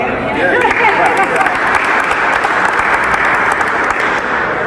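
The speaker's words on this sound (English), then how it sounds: "You can clap." An audience at a live event at the Georgia State Capitol breaks into steady, dense applause that carries on loudly throughout, with voices mixed into the clapping.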